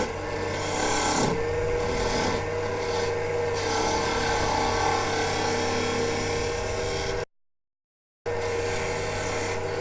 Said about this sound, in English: You can hear the lathe idle in there